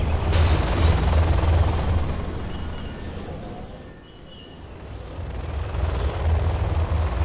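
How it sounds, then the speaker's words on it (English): A Helix helicopter from the game Command & Conquer Generals Zero Hour making a flyby, its loud rotor rumble fading briefly mid-pass before swelling again, with faint game effects in the background. "Making a flyby. Helix on the scene."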